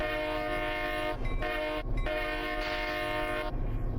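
Locomotive horn sounding at a grade crossing in the Train Sim Classic railroad simulator, a loud sustained chord blown in several bursts with short gaps, over a low rumble of the train.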